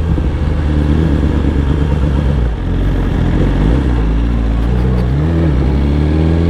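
Royal Enfield Bullet motorcycle on the road, a loud, close engine drone with a steady low thump that swells and shifts in pitch as it rides past, alone without talk.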